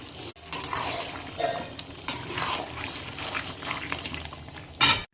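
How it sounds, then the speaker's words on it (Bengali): Chicken with yogurt cooking down in a pan for a homemade biryani, a soft bubbling simmer with occasional stirring scrapes and a louder clatter near the end. "এদিকে আমি চিকেনটা কষাচ্ছি"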